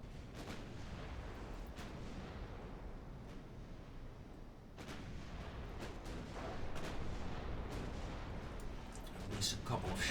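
Battleship main guns fire in a fast naval engagement in Ultimate Admiral Dreadnoughts, with scattered booms over a constant dense rumble of sea and battle noise, growing louder toward the end.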